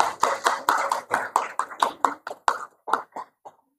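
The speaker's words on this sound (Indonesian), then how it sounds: "Itu tepuk tangan buat para guru yang luar biasa hari ini." Handclapping for teachers at an Islamic boarding school in Curug, Tangerang, a brisk run of sharp claps that thins out and fades, close and clear with no voices.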